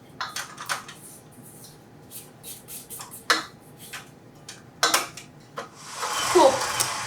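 Spatula scraping down a mixing bowl of creamed butter and sugar for pecan snowball cookie dough, a series of short scratchy strokes and taps against the bowl, with a longer scrape at the end.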